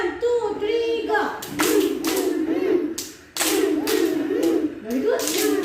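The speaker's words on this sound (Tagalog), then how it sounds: "Sumayaw nga tayo ng may palakpak" Kindergarten children clap their hands in a fast, steady rhythm while dancing in a classroom, loud bursts of clapping mixed with singing voices and lively chatter throughout.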